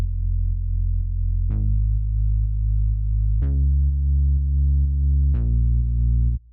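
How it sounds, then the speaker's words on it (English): Sustained synth bass patch from Lion in a melodic techno production, playing long held notes without an arpeggiator, changing pitch three times with a bright attack at each new note, steady and loud with no voices. "The bass is coming from a patch from Lion"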